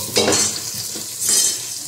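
Onions frying in a pan for white pulao, with a spoon stirring them in two bursts of scraping over a steady sizzle, close and fairly loud, no talk.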